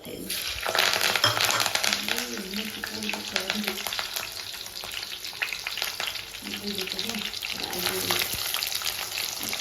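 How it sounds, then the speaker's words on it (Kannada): Mustard seeds, green chili, chana dal and curry leaves fry in hot oil for wheat upma, giving a loud, steady close-up sizzle with occasional stirring clinks from start to finish. "ನಾನಿಲ್ಲಿ ಸಾಸಿವೆ ಹಸಿಮೆಣಸಿನ್ಕಾಯಿ ಮತ್ತು ಕಡಲೆಬೇಳೆ ಕರಿಬೇವು"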